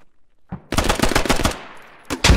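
M240 machine gun fire in the video game Squad: a short burst near 0.5 s, then a loud, rapid sustained volley lasting about a second, followed by another sharp burst at the end.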